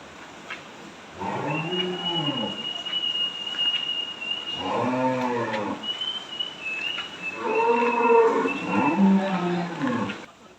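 Cows and calves on a dairy farm with Australian cross cows give three separate drawn-out moos, spaced across the stretch, over a steady barn hum and a faint high whistle-like tone.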